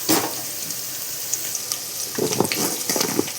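Chopped vegetables for Andhra-style sambar go into a hot pan of fried seasoning, producing a broad steady sizzle with louder crackling bursts as pieces land near the end; no talking.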